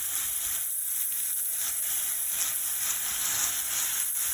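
Butter sizzles steadily in a hot pan with lemon, garlic, rosemary and prawns. The frying hiss is loud, close and continuous, with no talk.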